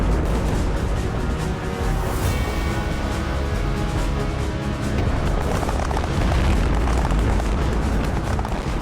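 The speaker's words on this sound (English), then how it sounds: "The final straw is the devastating explosion of an ammunition wagon." A massive explosion of an ammunition wagon on a battlefield, rendered as a documentary sound effect: a loud, sustained, rumbling roar of booms and crackling debris filling the whole stretch without letup.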